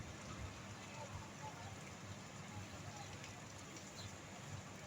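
Rain falls steadily in Kuwait on a wet, overcast day, a soft continuous hiss of drops on surfaces that stays faint and even throughout.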